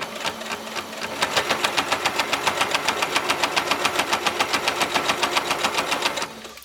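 A sewing machine stitches around a corner while making a bowl cozy, running in a loud, fast, even chatter of needle strokes that starts up, holds steady for several seconds, then stops.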